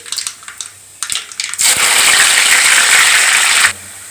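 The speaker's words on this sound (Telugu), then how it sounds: "ఎల్లిపాయలు గోల్డ్ కలర్ రావాలి, అప్పటిదాకా వేగనివ్వాలి ఆయిల్లో" Crushed onions sizzling in hot oil, a steady loud hiss and crackle from a village-style pan while flattened rice snacks are being made, starting after a few clatters and cutting off abruptly.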